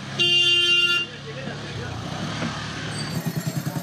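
Busy street traffic with scooters and cars fills the scene: a loud car horn blasts for about a second, then engines hum and a scooter putters nearby, with voices in the background.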